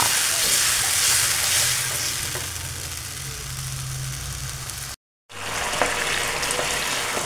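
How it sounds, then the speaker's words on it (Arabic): Chopped small tomatoes fry in oil in a pan, giving a steady broadband sizzle with a low rumble, close and loud, broken by a brief silence before the frying resumes. "معانا 5-6 حبات طماطم كده صغيرين متقطقطين، وفي قلب طاسة وشوية زيت"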